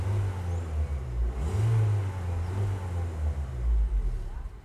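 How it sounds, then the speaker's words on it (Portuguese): A Chevrolet Meriva 1.8 minivan with a GM engine runs close by, a low steady idle hum with brief swells as it is revved. "Barulhinho de motor GM."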